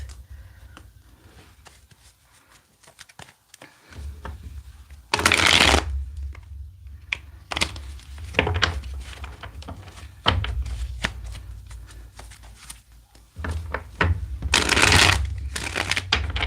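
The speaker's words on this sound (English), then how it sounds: "Let's get one more good shuffle here." Tarot cards are shuffled in several bursts of rapid riffling and flapping, close up, with quiet pauses between and faint talk at times.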